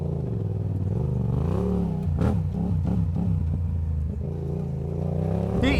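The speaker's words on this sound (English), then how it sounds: "just take that one through the mud." A Harley motorcycle revs hard as it churns through mud, the engine pitch rising and falling in repeated throttle bursts, loud and close with some clatter.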